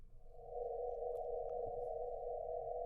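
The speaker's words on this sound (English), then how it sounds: "So oxygen, its spectrum sounds like this." Sonified light spectrum of oxygen: a steady, loud sustained tone, rich in many closely spaced pitches, swelling in after a brief onset and holding evenly throughout.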